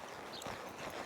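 Horse hooves thudding in a quick, steady rhythm as a colt runs a barrel pattern in a competition arena, a brief burst of clip-clop at moderate distance with no talking.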